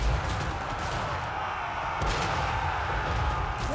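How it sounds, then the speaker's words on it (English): Heavy booms from a great cannon in the fantasy battle game Total War: Warhammer 3, with low rumbling blasts repeating every couple of seconds over a continuous din of battle. "Yes, the great cannon shootings."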